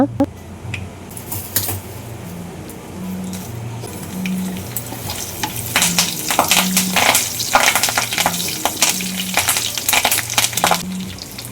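Long beans (barbati) fry in a pan at home, with a steady sizzle that grows louder and busier in the second half, broken by utensil clinks and stirring scrapes.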